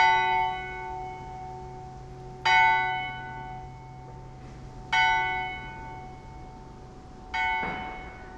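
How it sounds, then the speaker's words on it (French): A church bell donated to a cemetery by St. Michael's church strikes four times at slow, even intervals, each loud clang followed by a long ringing fade, with no other sounds around it. "une cloche qui était donnée au cimetière par l'église St. Michael's, Lord Bath"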